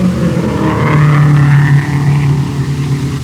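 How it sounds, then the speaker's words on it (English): A race car at the 1939 Indianapolis 500 roars past in a loud, sustained engine drone that rises and then fades slightly, heard as on an old radio broadcast with no speech over it. "There goes Cliff Regier driving a beautiful, beautiful car."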